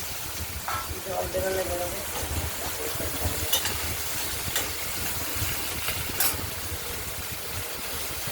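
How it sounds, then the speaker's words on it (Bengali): Pieces of ridge gourd fry in oil in a wok, a steady broad hiss and sizzle that holds throughout, with a voice speaking over it. "এগুলোকে তেলে ভাজা ভাজা করতে হবে।"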